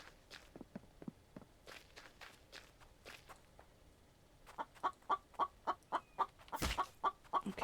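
Footsteps patter at first. Then a video-game chicken clucks in a quick, regular series, close and distinct, with a brief burst of noise near the end.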